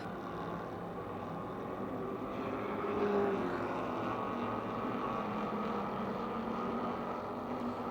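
Modified race cars circling a speedway oval during a heat race at Motordrome Speedway: a steady, distant droning roar of engines that swells slightly midway, continuous and without talk.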